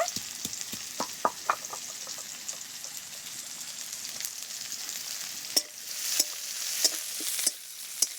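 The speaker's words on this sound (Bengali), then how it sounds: "এবারে দিয়ে দিচ্ছি গোটা জিরে, আর দিয়ে দেবো পেঁয়াজ কুচি, একটু রসুন থেতো করে দেব।" Whole cumin seeds, chopped onion and crushed garlic fry in hot oil with a soft continuous sizzle, punctuated by sharp clicks and scrapes of stirring that grow busier toward the end; nobody talks.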